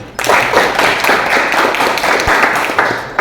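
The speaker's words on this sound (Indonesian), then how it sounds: "Kita tepuk tangan dulu." A group of children in a classroom clap their hands together in a steady, lively burst of applause that continues throughout, fairly close and loud.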